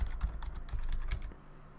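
Rapid clicky typing on a computer keyboard, a quick run of close, light key presses that thins out toward the end, with no voice.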